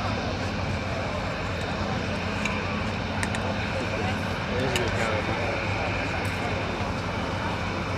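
Aerobatic display aircraft of the Royal Jordanian Falcons flying in formation at an air show, a steady broad engine drone that runs throughout, with a commentator talking over it.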